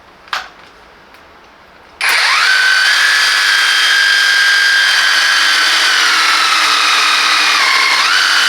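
A Parkside Performance 20V cordless saber saw, model PSSAP 20-Li D5, cutting wood: after a brief click and a quiet pause, the motor starts abruptly into a loud, steady high-pitched whine that holds and dips slightly in pitch near the end, with no talking.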